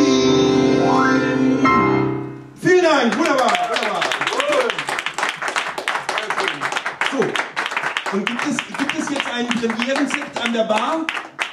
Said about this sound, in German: Also applaudiert groß für ihren Mut.